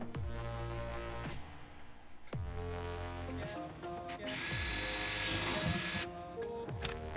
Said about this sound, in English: Just drill through the stock plastic diffuser.